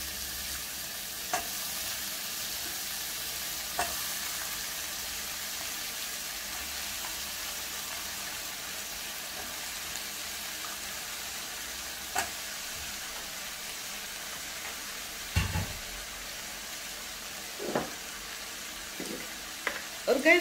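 Brinjal and green chillies frying in a pan, a quiet, even sizzle running throughout with occasional soft knocks and stirring scrapes, growing busier near the end.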